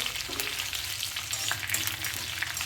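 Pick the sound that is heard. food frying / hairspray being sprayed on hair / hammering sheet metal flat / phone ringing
food frying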